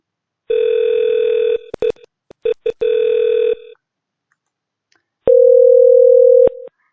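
A VoIP softphone on an Elastix server plays steady electronic ringback tones, two long bursts broken by brief clicks and then a final tone after a pause, loud and clear with no voices.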